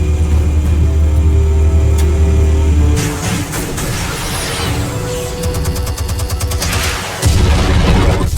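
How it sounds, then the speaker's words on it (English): Explosives detonate in Batman: The Telltale Series, a loud booming blast over a steady rumbling background, followed by crackling debris and a second deep surge near the end. "Explosives armed. Fire when ready."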